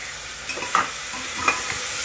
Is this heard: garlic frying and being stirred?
yes